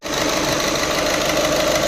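A VW Vento engine idles close by with a steady, loud rumble, running rough and unbalanced with a knock from a faulty fuel injector; the engine sound is alone, with no talking.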